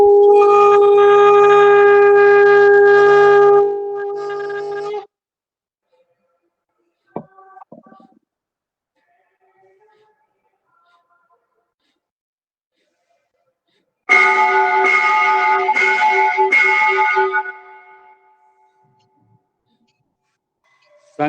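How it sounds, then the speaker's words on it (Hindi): A loud tonal horn-like blast sounds for about five seconds, then falls silent, then comes back for a few seconds more, like a conch blown during a yoga session; a bell ring is not clearly separate. "शंख की धुन, घंटा की धुन"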